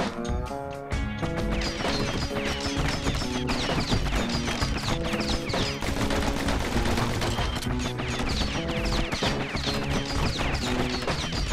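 Pistol gunfire in the video game Bastion, rapid cracking shots and impacts mixed under loud, busy game music and effects, continuous and dense throughout.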